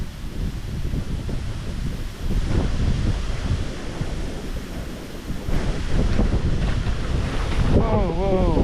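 Strong wind blows across the microphone on the bank of the River Thames during a club fishing match. It is a loud, steady roar that buffets the mic throughout, with gusts swelling now and then.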